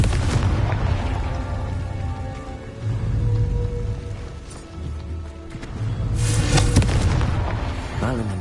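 A fiery blasting curse explosion in the Hogwarts Legacy video game, a deep booming blast with crackling debris that fades, then a second rumbling burst with bright sizzling crackle near the end.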